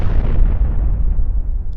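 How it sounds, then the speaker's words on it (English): A giant explosion set off for a film stunt, with empty military cars towed over the charge, booms loud and close, then rolls off into a long, fading low rumble. "triggered a giant explosion that sent the vehicles flying 30 feet into the air"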